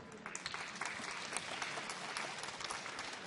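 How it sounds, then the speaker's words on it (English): Audience applause after a steering committee's work on water and climate cooperation at a COP26 session, dense, steady clapping from a large hall crowd sustained throughout. "I would kindly ask you to applaud for them for the great job they did"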